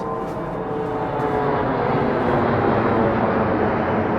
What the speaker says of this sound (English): these planes still fly right over here